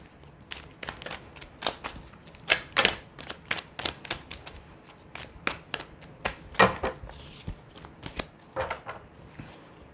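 Crisp, rapid tarot card shuffling with quick irregular snaps and riffles, close by, some pauses between bursts, no talking.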